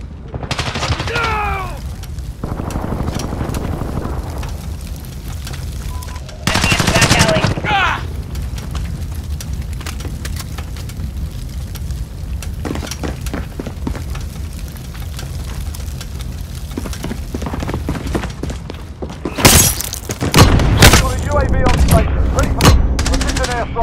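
Gunfire and explosions from the Call of Duty: Modern Warfare video game, with bursts of shooting and heavy booms loud around 6–8 seconds and again near 20 seconds, mixed with voices talking and shouting across the scene.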